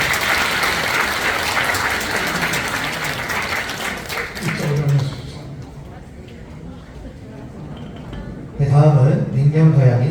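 Wedding guests at a Korean ceremony applaud the groom with a dense, sustained burst of clapping that fades after a few seconds, followed by someone speaking over a microphone.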